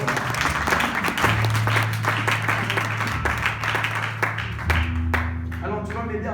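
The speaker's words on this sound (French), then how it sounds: "Clap your hands." Congregation clapping hands during a church service, a dense continuous patter of many hands with a sustained musical tone and voices underneath.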